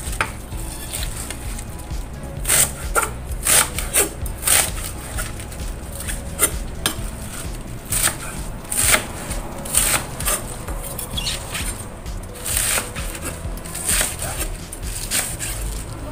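A knife slicing through Chinese cabbage (sawi putih), a series of crisp, irregularly spaced cuts over a steady background hiss, close and moderately loud.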